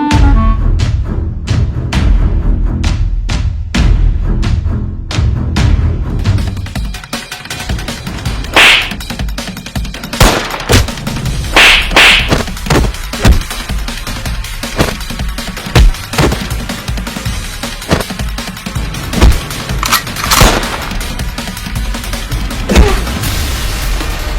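Gunfire sound effects from a Hindi comedy sketch, a fast burst of sharp cracks at first, then scattered loud shots and thuds spaced irregularly over a busy, noisy background.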